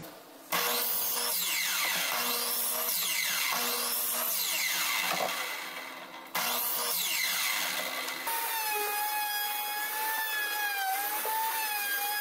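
Power tool cutting wooden handles to final dimension at a single workshop station, a loud whining cut repeated in several passes with brief pauses and a pitch change near the end.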